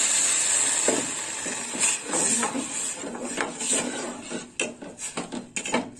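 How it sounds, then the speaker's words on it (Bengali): Water sloshes and splashes in a metal pot as mung lentils are washed, with scattered clinks and scraping as they are stirred and rinsed nearby. "ডালটা ধুয়ে নেব জল দিয়ে।"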